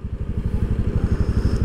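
A motorcycle with a sidecar strains through deep flood water that reaches wheel height. Its engine chugs in a fast, regular, pulsing rhythm, loud and close, with a faint clatter and no speech.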